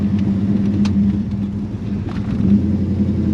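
Engine of a 1971 Ford XW Falcon GT heard from inside the car during a slow gear change, a deep steady rumble that dips briefly and then builds again, loud and close with no talking.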